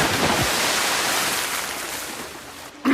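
Rushing river water, a steady broadband wash that flows continuously and eases slightly before a brief dip and a fresh surge at the end.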